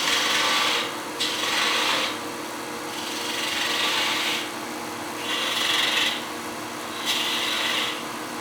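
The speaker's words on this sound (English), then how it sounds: "right now I'm making this cove right here" A wood lathe tool cutting a cove into a turning wooden spindle gives repeated rasping scrapes in passes of about a second, each separated by a softer whir of the spinning stock, close and without talk.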